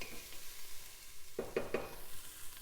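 Onions sautéing in a pan for cheesy chili mac, a soft steady sizzle with a few brief stirring scrapes partway through, quiet and close.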